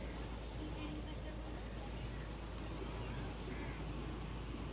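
A boat motors past on the Alappuzha backwaters in Kerala, a steady low engine drone with water wash running throughout, fairly close, while people talk over it.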